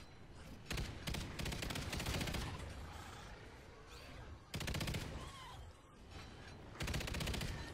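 A big gun fires in the video game Extinction in long, sustained rapid-fire bursts, three heavy stretches with short pauses between them and some faint background noise, fairly quiet overall.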